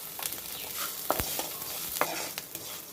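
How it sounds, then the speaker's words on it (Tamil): Chopped onion sautéing in a pan with curry leaves and salt, a soft, steady sizzle punctuated by sharp scraping taps of a spoon stirring, fairly faint and with no talking. "வெங்காயம் கொஞ்சம் சீக்கிரமாக வதங்கிடும்."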